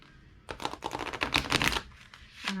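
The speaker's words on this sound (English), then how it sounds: "but these ones I could probably shuffle" An oracle card deck is shuffled by hand in a quick, close run of papery riffling and flicking lasting just over a second, with no voices.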